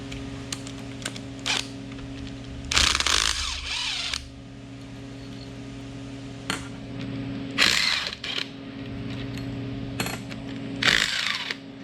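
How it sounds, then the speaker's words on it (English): A 12-point socket ratchet removes the back cover bolts of an Oliver 1950T tractor during teardown, giving three loud bursts of rapid ratcheting between quieter clicks over a steady low hum. "now you take the back cover off, which requires a 12-point socket"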